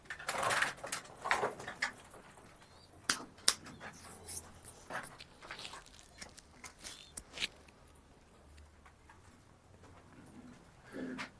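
Pigeons coo softly in bursts, mixed with scattered sharp flutters and clicks.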